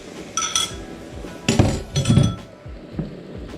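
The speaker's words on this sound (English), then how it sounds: "Give it a stir again in case it clumps up." Utensil clinking against a pan while sauce is stirred into tofu, a few light, scattered metallic taps and scrapes, close and fairly quiet, with no talk.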